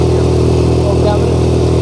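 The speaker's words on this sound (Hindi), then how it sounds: "हम बाइक चला रहे हैं" Motorcycle ridden along a road near a film song shooting location, its engine a steady mid-pitched drone with light clatter throughout, continuous and fairly loud, with talk over it.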